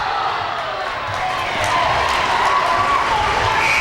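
Spectators at a Kansas girls' high school basketball game in a gym shout together at an official's call, a steady loud crowd roar with scattered voices rising slightly toward the end.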